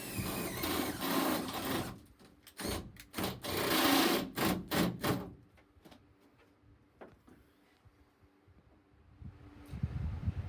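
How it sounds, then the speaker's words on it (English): Drill biting through the sheet-metal body of a camper van during a window installation: a burst of loud grinding and rasping bursts, then quieter scraping and clanks, and another rising grind at the end. "So let's get in the van and start drilling some holes."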